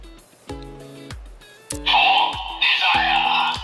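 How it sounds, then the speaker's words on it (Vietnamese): Premium DX Magnum toy playing its final-episode effect, a few stepped electronic tones leading into a loud, dense sparkling burst, close and alone without talking. "thì âm thanh của tập cuối cùng này thì là nó phải đồng đều cả hai boost"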